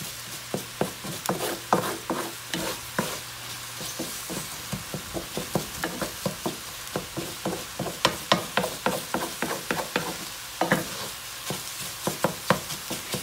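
A utensil stirs egg through fried rice in a hot pan, with quick, close scraping taps in an uneven rhythm over a soft background sizzle.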